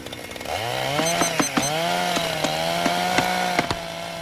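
A chainsaw revs up and runs steadily, its droning engine whine holding a constant pitch with a few sharp clanks and bumps over it; no voices are heard.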